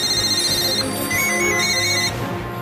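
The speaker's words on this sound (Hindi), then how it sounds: "प्रधानमंत्री के दफ्तर के फोन लगातार घनघना रहे हैं" Office telephones in a prime minister's office ringing continuously, a bright electronic trill that shifts in pattern partway through, loud and close with no voices.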